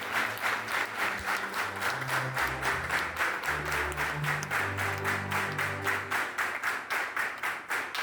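A crowd at a school celebration for the feast of Saint Don Bosco in Nyamagabe claps in steady sustained applause, with rhythmic group clapping throughout and a low voice or music murmuring underneath.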